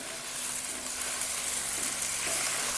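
Ginger paste fries in hot oil in a pan for Bengali mutton kasha, a steady close hissing sizzle with no talk.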